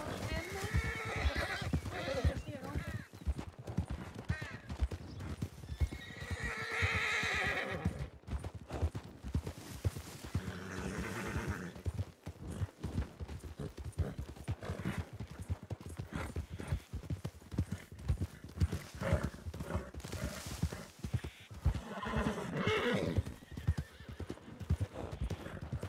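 Horse hoofbeats clip-clop at a gallop in a Red Dead roleplay game, with whinnies and neighs breaking through; loud and continuous under frequent excited talk from players.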